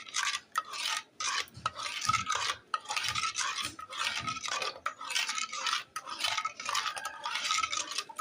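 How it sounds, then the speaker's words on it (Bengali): Wood apple (bael) sherbet with salt stirred in a glass, quick rhythmic scraping and clinking of a spoon in repeated bursts, close and clear with no talking. "এখন ভালো করে নেড়ে চেড়ে নিলেই আমার বেলের শরবত রেডি"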